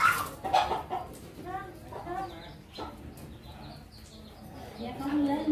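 A mother hen clucking with her five newly hatched chicks on a farm, giving a few soft, irregular clucks close by amid faint chick peeps, with quiet background rustle.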